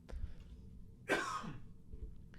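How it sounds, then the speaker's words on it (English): A single sharp cough bursts out in a quiet room, a short harsh burst followed by a brief rough tail, with low background hum around it. "today I've been coughing quite a bit"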